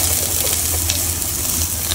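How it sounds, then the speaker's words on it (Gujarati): Onion frying in oil in a kadai while cooking sweet corn: a steady, dense sizzle of hot oil, loud and close, running unbroken from start to finish with no talking. "કઢાઈમાં આપણે થોડુંક તેલ ઉમેરશું, થોડુંક તેલ ઉમેરીને એની ઉપર નાખશું આપણે પહેલાં તો ડુંગળી."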